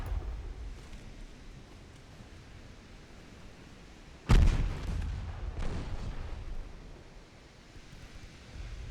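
Heavy naval main guns fire in a single booming salvo at a sea battle in Ultimate Admiral: Dreadnoughts, a loud sudden blast followed by a second rumbling report, over steady wind and ocean noise.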